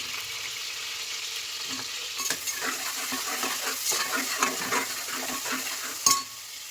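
Green chillies and onion frying in a pan while being stirred, with a continuous close sizzle, scraping spoon strokes and a sharp clink of metal near the end, no talking.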